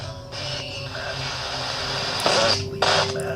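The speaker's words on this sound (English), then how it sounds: "So when they cycle it, all you're gonna hear is interference." FM spirit box sweeping across stations, a steady hiss of radio static and interference with brief choppy bursts and tonal fragments as the tuner cycles.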